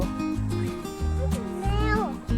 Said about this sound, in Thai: ไหนมีแมวด้วยเหรอ แมวไฟไว้อ๋อ แมวอยู่ตรงไหน